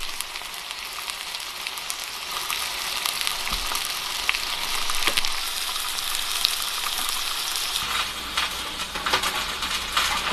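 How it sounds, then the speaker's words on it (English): Bear steaks sizzle steadily in a hot pan, a dense crackling hiss with occasional pops and a few light clinks, no voices. "Just got some bear steaks sizzling on the pan over here"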